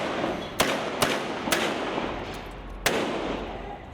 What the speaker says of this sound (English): Gunshots rang out at a major intersection in Bangkok where protesters and government supporters clashed.